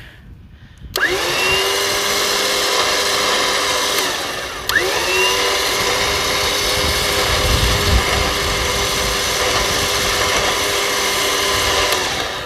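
A Warn electric winch hauling a tractor onto a trailer: a loud, steady motor whine that spins up, briefly drops and restarts, then holds a strained drone under load.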